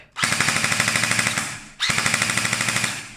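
Two bursts of rapid full-auto fire from an Nwell M4-style airsoft rifle, each about a second and a half long with a brief pause between, loud and close.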